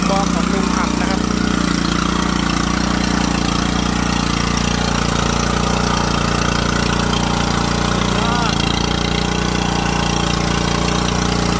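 Engine of a homemade rice seeding vehicle built in Uttaradit, Thailand, chugging steadily at close range while it is driven, loud and continuous with people talking over it.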